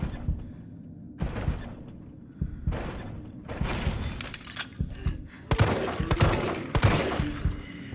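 Repeated shotgun blasts from Resident Evil 3 Remake ring out in irregular bursts, some sharp and loud, over a steady low rumble of background noise.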